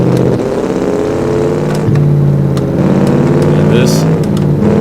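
A tweaked car engine in a video game revs and drones steadily with shifting pitch, loud and continuous, while a person talks over it.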